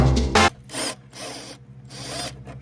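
Power tool working rusted running board bolts loose on a SuperDuty pickup, with several short loud whirring bursts separated by brief pauses, close up.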